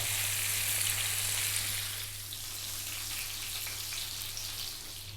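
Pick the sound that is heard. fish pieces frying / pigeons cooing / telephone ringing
fish pieces frying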